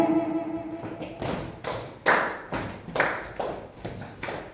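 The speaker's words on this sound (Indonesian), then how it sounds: "Tepuk dua, satu, dua. Belum kompak." Group of people clapping a counted rhythm, heard as a series of about eight sharp, fairly close clap bursts in uneven clusters, slightly out of unison, with no talk over them.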